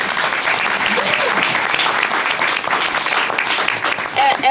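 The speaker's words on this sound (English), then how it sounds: "Can we give our panelists a round of applause?" Audience at a community discussion on downtown data centers applauds the panelists, a full, sustained burst of clapping with scattered voices and chatter mixed in.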